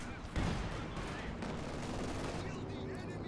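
Artillery fire in the real-time strategy game Company of Heroes 2, a burst of blasts and crackling gunfire in a dense, continuous battle din, with a commentator talking over it.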